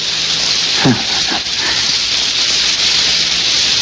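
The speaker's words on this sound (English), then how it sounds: "I'm afraid if it continues to rain very heavily, this place might flood." Heavy rain pours steadily, a dense close hiss of falling water that holds throughout, with a brief low rumble or movement near the start.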